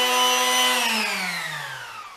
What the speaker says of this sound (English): I'm going to do the final sand on it